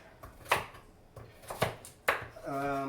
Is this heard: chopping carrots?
yes